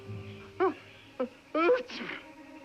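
A single sharp sneeze bursts out amid muffled background noise, followed by a short voiced outburst, close and fairly loud.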